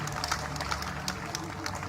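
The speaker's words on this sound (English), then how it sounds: "how about one last round of applause" A street crowd in Leeds applauds a street performer, with dense, steady clapping heard from close by and no pauses.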